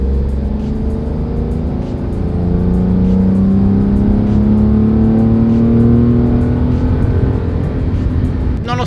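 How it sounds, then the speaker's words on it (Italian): A Toyota Aygo's small three-cylinder engine revs steadily in second gear while driving, a loud, close, rising drone that builds and holds, with no talking. "Ora vi faccio sentire il rumore, il rombo di questo motore, che è un 3 cilindri"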